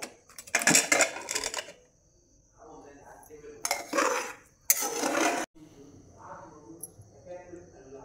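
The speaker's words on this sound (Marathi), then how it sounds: "कुकर थंड झालेला आहे, आपण खोलून पाहूया" A pressure cooker lid and pot clatter in a home kitchen where pulao rice was cooked, with short bursts of metallic scraping and knocking separated by quieter moments and talk.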